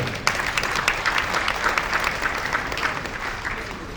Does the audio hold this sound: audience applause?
yes